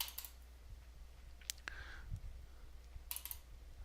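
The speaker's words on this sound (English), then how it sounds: "I'm going to double click on that" Faint, crisp clicks from a computer mouse, with a quick double click in the middle and another rapid pair near the end, against a quiet room hum.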